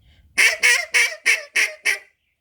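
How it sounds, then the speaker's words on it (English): Six quick, bright quacks blown on a duck call with air cut at the tip of the tongue, loud and close in a steady rhythm, honk-like and higher-pitched, with no voices. "If I use towards the tip of my tongue, that'll be my finest duck."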